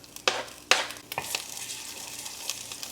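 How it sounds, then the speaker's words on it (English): Garlic in oil sizzles softly in a pan over medium-high heat, with a few sharp utensil clicks and scrapes at the start followed by a low, steady frying hiss; no voices. "And into that oil, we're going to start by sauteing our little clove of garlic."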